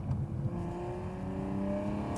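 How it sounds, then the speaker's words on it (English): A 2020 Toyota Supra exhaust note while driving, a steady low engine drone with faint rising tonal whine, heard from inside at moderate level with no talking. "It has a lot of different variations in the exhaust note."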